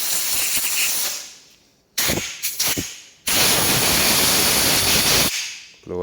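Compressed air hisses in loud sustained blasts, blowing excess powder coating off bolts for a Toyota Glanza, with short spurts in the middle and a long steady blast near the end.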